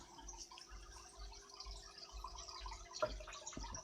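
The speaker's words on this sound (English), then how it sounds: "So where the water trickles back into the tank" Filtered water trickling back into a home fish tank, faint and continuous, with a soft steady babble and scattered small drips and splashes over a low hum.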